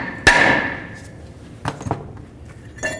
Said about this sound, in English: Continue on with our hammer and break this free.